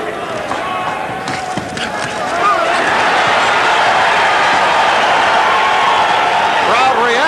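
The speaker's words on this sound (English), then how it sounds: "Crowd reacting to the combination." A boxing arena crowd at a 1985 IBF heavyweight title fight roars in reaction to a punch combination, the noise swelling loudly partway through and holding as a broad sustained cheer.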